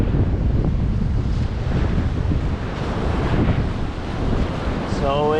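Low-tide waves wash in and out over the sand of Navarre Beach, Florida, at night, a steady broadband surf rush with wind buffeting the microphone throughout.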